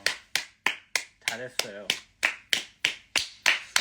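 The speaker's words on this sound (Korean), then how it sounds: "하지만 박수 쳐드릴게요." About a dozen sharp hand claps come in a steady, evenly spaced rhythm, close and fairly quiet, with a brief spoken voice partway through.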